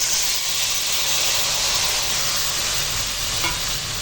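Mixed vegetables with split green chillies sizzling in hot oil with a nigella seed tempering, a loud, steady frying hiss that holds without pause.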